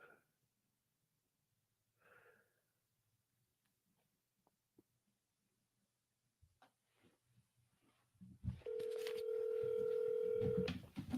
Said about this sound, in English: I'll call him on speakerphone